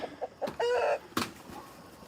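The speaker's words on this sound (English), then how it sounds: "And here's the roosters" A nearby rooster lets out a short crow amid a few soft clucks from hens, with quiet pauses between calls.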